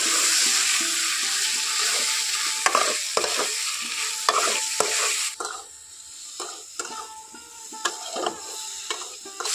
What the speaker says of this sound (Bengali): খুব ভালো করে কিন্তু মশলার মধ্যে নাড়াচাড়া করে নেব।